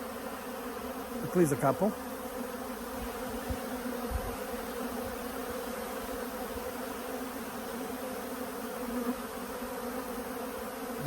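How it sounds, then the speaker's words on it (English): A steady, dense drone of many bees buzzing nearby on a hay farm throughout, with a brief spoken remark early on. "Bees everywhere."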